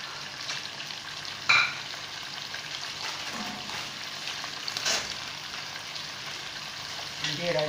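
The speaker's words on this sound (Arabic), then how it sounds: "ندير سباجيتي يغلى خاطش القدرة تاعي راهي بزاف تغلى" A pot of spaghetti at a vigorous boil gives off a steady bubbling hiss with a few sharper pops, heard close and fairly quiet.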